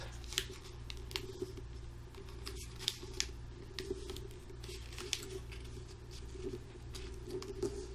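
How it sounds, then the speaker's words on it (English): Paper being folded for an origami lily, soft crisp creasing and rustling taps scattered over a steady low hum, close and quiet with no talking. "fold that edge of paper up"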